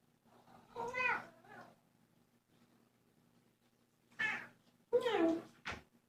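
Several close kitten meows come in short bursts, one early and a cluster of three near the end, with a soft pause between them in a quiet room.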